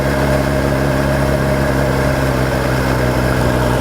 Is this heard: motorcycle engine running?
yes